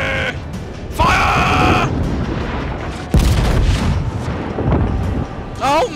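Ship's main guns fire in a naval combat video game, a few heavy booms in quick succession amid loud excited shouting from players.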